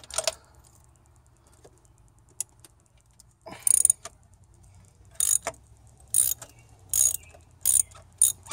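A socket ratchet with an extension clicks in short bursts while loosening a part on a 2010 Mitsubishi Lancer during a tune-up, crisp and close over a quiet background hum.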